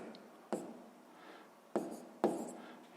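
Pen writing a math equation by hand on paper, a quiet scratchy stroke sound with three sharper taps as new marks begin, close and soft.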